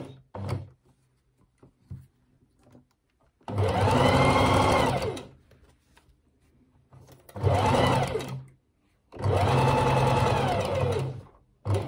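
A sewing machine stitches pinned wool coat pieces in three loud, steady runs of about a second and a half to two and a half seconds each, separated by short quiet pauses with faint handling sounds.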